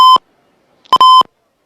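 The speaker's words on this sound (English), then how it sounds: "Excuse me for the beeps, a little technical stuff going on there." Technical-fault beeps break into a middle school football broadcast as three loud, sharp electronic tones, one short and then two in a quick pair, with silence between them.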